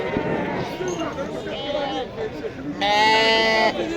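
Sheep bleat at a busy livestock market, several calls rising over a murmur of crowd chatter, with one loud, close bleat near the end while people talk nearby.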